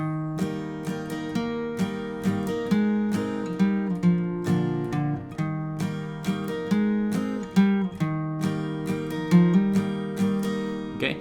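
An acoustic guitar is strummed in a steady rhythm, strong down strums with lighter up strums slipped between them, close and clear with no talking.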